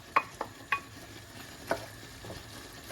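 Mushrooms with shallots and garlic stirred in a pan, giving a few scattered soft scrapes and knocks over a faint low sizzle, fairly quiet and without talk.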